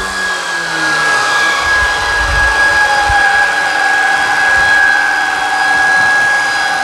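A Shark Vertex cordless vacuum running on hard floors gives a steady, loud motor whine with a sharp high tone, continuous and close, with no talking.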